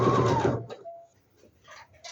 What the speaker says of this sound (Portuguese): Abaixo a sapatilha e costuro